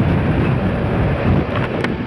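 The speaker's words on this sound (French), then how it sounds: "Ouais, le vent." Wind rushes over the microphone during a ride on a Kawasaki motorcycle, a loud, steady roar of buffeting with no gaps, drowning out other sound.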